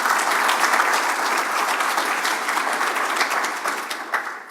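Audience applause at a session break following a presentation, a dense, steady roar of many hands clapping that holds for several seconds and starts thinning toward the end, with no talking over it.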